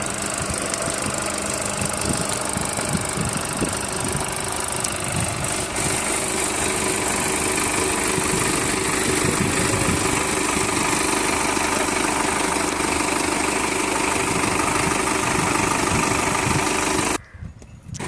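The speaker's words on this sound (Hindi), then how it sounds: "तो ये हाथी किसान की जो है रीपर लगी हुई है इस ट्रैक्टर में।" Tractor engine running with a Shakti Kisan reaper binder attached, a loud, steady mid-pitched chugging that holds evenly for the whole clip and then drops suddenly near the end.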